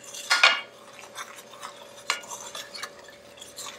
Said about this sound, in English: I'm going to add 4 tablespoons of cocoa powder. And I'm just going to mix that in